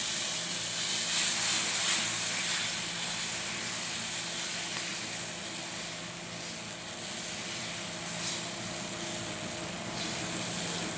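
Thanjavur orappu adai batter sizzles on a hot pan, a steady, close hiss with faint crackling that holds evenly throughout, with no voices.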